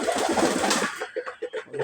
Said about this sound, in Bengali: আমার সাদা কবুতরগুলো খাচ্ছে